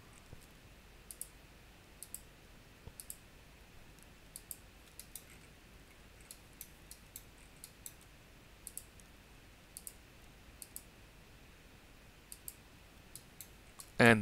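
Mouse clicks while working in HyperMesh software, faint isolated taps repeating at irregular intervals about once a second over a quiet background hiss, ending with a louder click.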